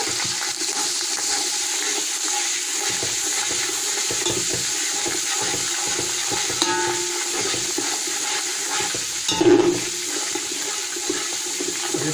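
Cumin, black cardamom and black pepper fry in a pot of hot oil for chicken mandi rice, giving a steady, dense sizzling hiss throughout with a brief louder stir or clatter near the end.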